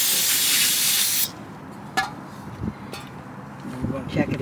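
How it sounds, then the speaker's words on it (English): A can of brake cleaner gives a steady, loud hiss for about a second during work on a 2000 Ford Ranger XLT, then cuts off, leaving faint clicks and small handling noises. "A little bit of brake clean."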